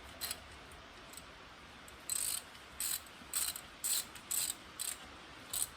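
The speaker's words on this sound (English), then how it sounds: "Get it threading in on our threads we just made there." A greased fitting spun by hand into freshly cut threads for an LS swap gauge hookup, giving a series of short dry ratcheting clicks in bursts, fairly quiet and close, with no talk.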